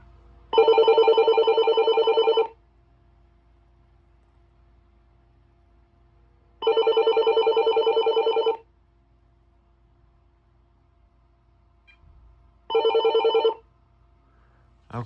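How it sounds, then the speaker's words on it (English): Base units of an early Uniden TRU series cordless telephone ring in electronic trilling bursts, three separated rings of about two seconds each with quiet gaps between, the last one shorter, close and clear. "You will just hear the basses ringing."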